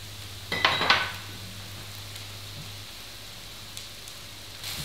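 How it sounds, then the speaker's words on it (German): Prepared zucchini hits a hot pan of Asian stir-fried vegetables with a brief, bright sizzling burst, then a faint steady hiss over a low background hum. "Gebe dann die vorbereiteten Zucchini dazu"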